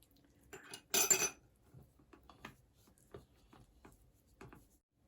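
A peanut mixture with parsley, garlic and olive oil is stirred in a bowl, giving scattered clinks and scrapes of a utensil against the dish, with one louder clatter near the start.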